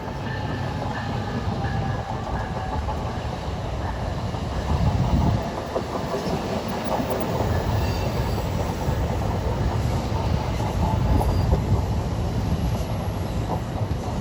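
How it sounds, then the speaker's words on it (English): Aging 40-plus-year-old MU commuter rail cars pass nearby on a New Jersey line, a continuous roar of wheels and rail clatter with a brief surge midway and faint squeal, no voices. "always nice to see those 40-plus-year-old MU cars"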